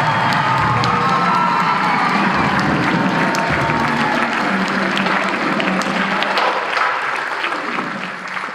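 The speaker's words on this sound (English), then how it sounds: "So let's get a nice round of applause." Loud, dense applause with cheering from a large crowd at a marching band concert, a steady wash of clapping and shouts that holds throughout and tapers slightly at the end.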